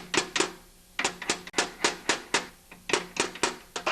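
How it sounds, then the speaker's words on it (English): A hammer gently taps a bushing into a John Deere 5/20 snowblower wheel, giving about twenty sharp, close knocks in quick uneven pairs and runs. "So now gently tap the bushing in."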